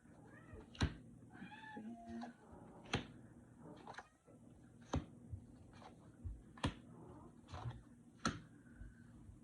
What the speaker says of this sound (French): j'ai un chat ici qui est de bonne humeur